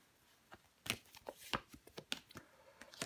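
Tarot cards are handled on a table with a quick series of sharp card slaps and shuffling snaps, close and crisp, with no voice.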